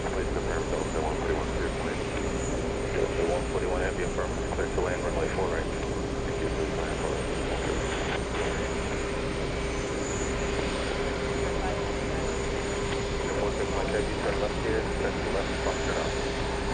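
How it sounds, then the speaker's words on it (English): A JetBlue jet airliner at JFK airport gives a continuous, loud engine roar with a steady whine. People talk over it throughout. "Kevin's talking about this one right here. That's JetBlue 211."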